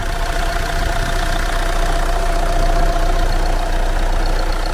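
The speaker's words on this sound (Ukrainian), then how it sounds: "Двигун працює рівненько." Steady, loud idling of a 2014 Renault Megane III 1.6 diesel engine, a continuous even rumble with a faint rhythmic knock, close by and without any voices.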